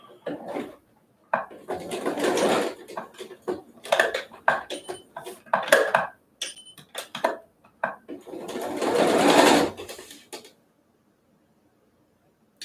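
A sewing machine stitches the seams of a homemade surgical mask in bursts of rapid mechanical whirring, stopping and starting several times with one longer run near the end and brief handling noises between, no talking.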